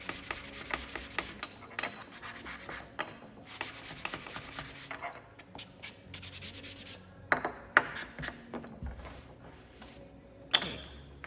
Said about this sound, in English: So I'm just gonna get these nice and sanded.